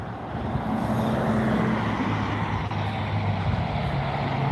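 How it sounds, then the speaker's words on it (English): Road traffic rumbles steadily nearby, a continuous low roar of passing cars and trucks heard alone without talk. "There's cars."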